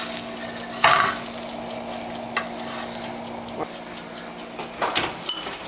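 Tuna searing in a hot pan gives a faint, steady sizzle, broken by a few sharp clinks and scrapes of the utensil, close up and with no voices.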